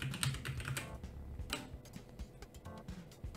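Fast typing on a Kogan mechanical gaming keyboard fitted with red switches, a close, steady stream of crisp key clicks and clacks with brief uneven pauses and no voices.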